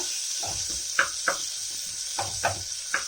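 Sliced onion and rice for egg biryani fry in a pan under a constant bright sizzle, broken by several soft stirring scrapes and taps spaced irregularly, close and moderately loud.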